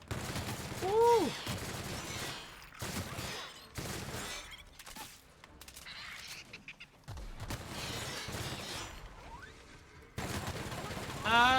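Bursts of video game gunfire from an intense firefight, coming in loud repeated volleys separated by short quiet gaps, with bright crackling impacts and occasional sharp shattering noises mixed in.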